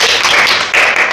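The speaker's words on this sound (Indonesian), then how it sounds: "Kasih tepuk tangan yang meriah untuk Mbak Febi" Applause for a young contestant at a children's preaching competition selection, a steady dense patter of many hands clapping throughout, fairly loud and continuous with a brief dip near the end.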